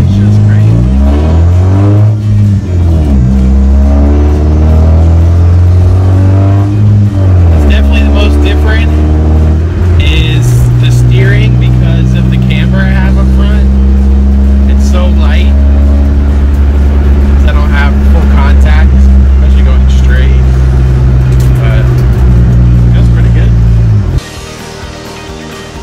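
A Honda Civic project car's engine runs close by with a strong low drone, rising and falling through several revs, while people talk over it before the sound drops at the end.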